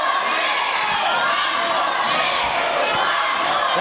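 A wrestling crowd at a PWU TV title match shouts and roars together, loud and dense, calling for five more minutes after the time limit runs out.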